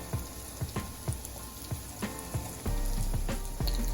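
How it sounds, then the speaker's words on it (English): Corned beef hash frying in a pan, a steady crackling sizzle with soft popping ticks recurring every half second or so, growing louder near the end, with no voices. "I'm gonna let it fry a little toastier on this side"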